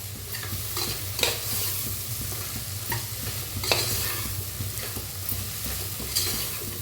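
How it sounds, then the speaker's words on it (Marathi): Spice masala with turmeric roasts in a pan for a sprouted matki rice dish, giving a steady, close sizzle broken by repeated scraping stirs of a spoon against the pan. "असा मसाला भाजू द्यायचा"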